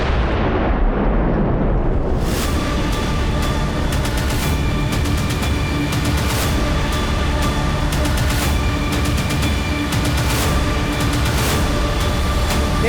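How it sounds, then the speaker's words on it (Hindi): A loud, sustained rumbling blast of a building explosion with crackling debris and booming reverberation, continuing heavily for several seconds, no voices. "ये तो छोटा सा धमाका था।"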